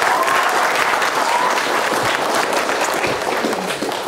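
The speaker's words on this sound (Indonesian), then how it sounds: "Tepuk tangan dong." Audience applause at a BPKP South Sumatra office gathering, dense, steady clapping from a crowd lasting the whole stretch, fairly loud and close.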